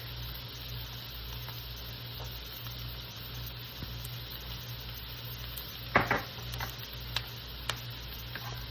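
Garlic, lemon and pepper sauté in a pan for sotanghon guisado, giving a soft, steady sizzle with a few light clinks of utensils against the pan near the end.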